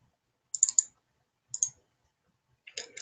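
Sharp plastic clicks of a computer mouse come in three small quick clusters separated by silence, close and fairly quiet with no talk over them.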